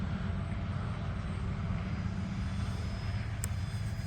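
An Arrows F4U-4 Corsair RC model airplane drones steadily in flight just after takeoff, a continuous motor and propeller whine at moderate distance with a constant level and no talking.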